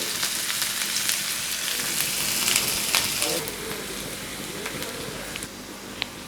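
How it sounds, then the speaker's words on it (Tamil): Onions frying in oil for an egg biryani, a steady broadband sizzle with crackles that runs throughout and eases slightly toward the end, close and moderately loud with no talking. "அதில் போட்டு நல்லா கோல்டன் ப்ரௌன் கலராக இதை வறுத்து முதல்ல நம்ம எடுத்துடலாம்"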